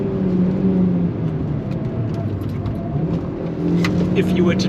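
A 2003 Audi TT 225 Quattro with a flashed ECU accelerates out of corners on a track, its engine humming steadily from the cabin with rising pitch, with a voice speaking over it.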